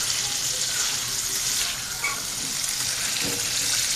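Hilsa fish curry with green chillies and turmeric frying in a pan, giving a dense, continuous close sizzle with faint bubbling throughout.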